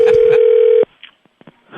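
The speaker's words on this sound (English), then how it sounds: "Here's your prank phone call right here." Before a prank phone call on a morning radio show, a loud steady telephone tone sounds for under a second, then cuts off to near silence broken by faint clicks and a rising hiss.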